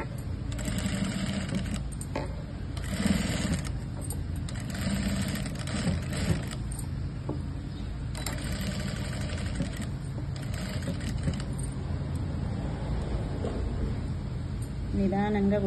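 A sewing machine stitches piping onto a blouse in bursts of steady mechanical whirring, starting and stopping several times, with a person talking in between.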